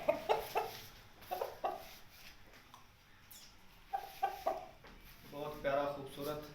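An Aseel rooster clucking in short bursts, close by, with quieter gaps between the calls and a louder run of clucks near the end.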